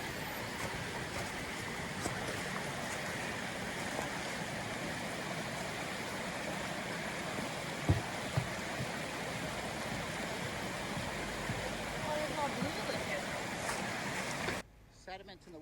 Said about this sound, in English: I'll turn the sound up so you can kind of hear just the sound of the water and the bridge